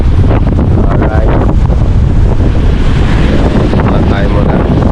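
Strong wind at a seashore after rain buffets the microphone in a loud, constant roar, with faint surf and no clear voice above it.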